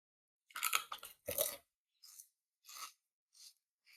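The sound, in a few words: crunching on a crunchy snack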